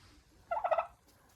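A short burst of turkey gobbling from a backyard flock, one rapid warbling gobble lasting about half a second, moderately close and clear against quiet surroundings.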